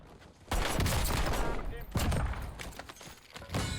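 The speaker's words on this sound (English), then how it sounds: "Been up here for a while though with this weirdly sounding heavy hitting gun." Bursts of loud TR2 rifle gunfire from the video game Warzone boom close by in heavy strings of shots, with short pauses between them.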